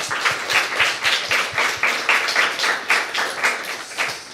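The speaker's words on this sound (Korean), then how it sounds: "지금까지 이렇게 연주해 주신 모든 분들에게 우리 감사의 박수 드리겠습니다" A church congregation claps in thanks to the student singers and musicians at a Wednesday Christmas service, a rhythmic round of hand claps with a steady, fairly loud pulse across the room, no voices over it.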